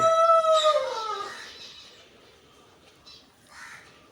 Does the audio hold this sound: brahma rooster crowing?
yes